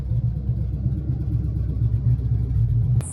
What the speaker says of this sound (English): we got Seth's truck going